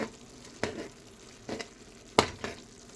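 A spoon stirs a filling in a pan over low heat for patishapta, three or four soft scraping strokes spaced apart over a faint background hiss, close and quiet, with no talking.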